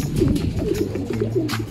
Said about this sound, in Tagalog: Meanwhile, kalapatids, ito na si Gracia